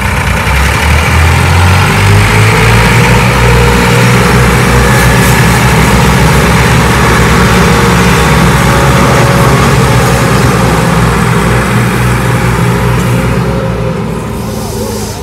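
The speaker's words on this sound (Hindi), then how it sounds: "वो ट्रैक्टर ना इस ट्रैक्टर ट्राली को ना आगे से खींचेगा" A tractor engine labours steadily as it tows a trolley loaded with sugarcane up a slope, with a second tractor helping to pull; the low, loud rumble runs continuously throughout, with faint voices underneath.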